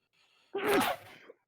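A single loud sneeze bursts out at a tabletop game session, sharp and close, preceded by a faint quick inhale and ending abruptly, with no talk over it.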